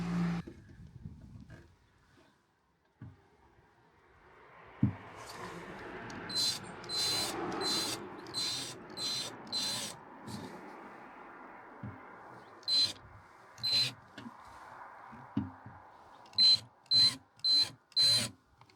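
A power drill running a cable line for a Lamtto RC 14 whirs in a series of short bursts, starting and stopping repeatedly at close range, with faint background noise between runs.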